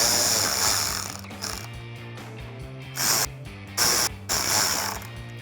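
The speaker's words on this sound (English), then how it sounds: "I'm just going to use my 7mm socket on a ratchet and install these bolts here in the corner of the wheel well" A 7mm socket on a ratchet drives headlight bolts into the wheel-well corner of a 2015-2017 Ford F150, giving bursts of rapid clicking pawl ratchets separated by short pauses, close up and alone.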